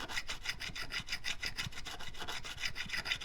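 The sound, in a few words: Chinese diamond fret crowning tool filing a guitar fret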